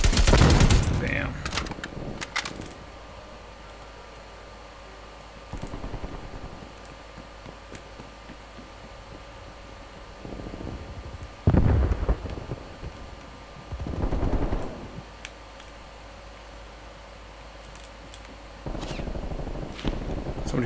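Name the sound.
gunfire in the video game Call of Duty Cold War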